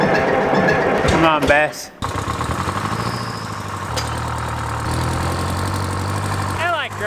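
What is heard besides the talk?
old tractor engine starting and idling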